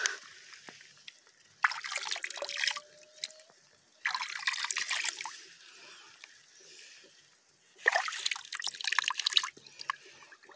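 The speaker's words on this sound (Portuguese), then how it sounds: "Aqui é uma aguinha que brota ali" Spring water seeping from the ground at a small muddy pool where cattle drink, soft trickling and dripping in quiet bursts separated by near silence, fairly close.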